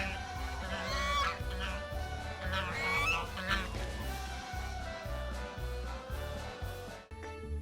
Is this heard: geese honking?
yes